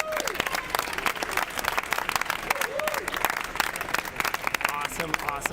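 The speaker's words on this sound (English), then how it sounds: "Let's get a round of applause." A round of applause at the finale of a LEGO building competition, steady clapping from a small group with cheering and whoops, while people's voices are heard talking over it.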